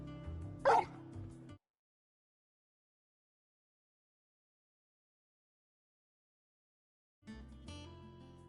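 A dog in Final Fantasy XVI gives one sharp, close bark with a whimpering edge over light background music, followed by a long stretch of silence before the music returns.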